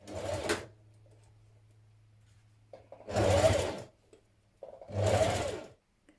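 Three short bursts from a sewing machine stitching neck binding onto a summer blouse made from New Look 6891, each close and fairly loud, separated by quiet gaps with a low hum.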